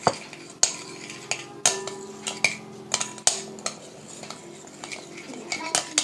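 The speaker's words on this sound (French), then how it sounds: "Alors on mélange." A utensil stirs sugar into chocolate cake batter in a bowl, with steady scraping broken by sharp clinks against the sides every second or so, close and moderately quiet, with no one speaking.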